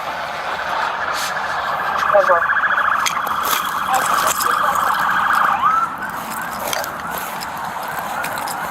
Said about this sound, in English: The sirens eventually fade